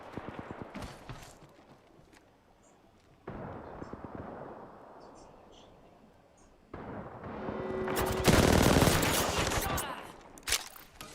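Video game gunfire breaks out in bursts, with a dense, loud volley of shots building in the later half and layered game noise, mostly alone with no clear talk.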